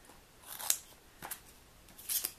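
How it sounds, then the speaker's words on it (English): Scissors snip sticky back paper while a small curved piece is cut for a stem: three crisp, close snips spaced about half a second apart over quiet background. "I'm just going to cut a little bit of a curved piece."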